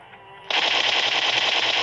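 Rapid automatic gunfire in the battle royale game PUBG, a sudden loud burst of close shots fired in quick succession that continues steadily after a quiet moment.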